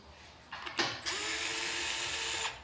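Screws are backed out of a FloatWheel ADV electric skateboard with a driver bit, a short whirring burst followed by a sustained, close, slightly rising buzz from the power driver.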